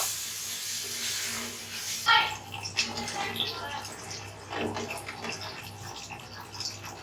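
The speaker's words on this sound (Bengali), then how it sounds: "এখন পরিমাণ মতো পানি দিয়ে দিব" Water pours into a pot of fried rice and lentils for khichuri with a hissing gush for about two seconds, followed by quieter bubbling and clinks.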